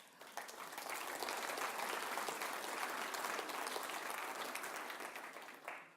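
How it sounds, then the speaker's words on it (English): An audience at an expert panel event breaks into sustained applause, steady dense clapping for about five seconds that swells briefly near the end before fading, with no speech over it. "I think we all should give you a clap"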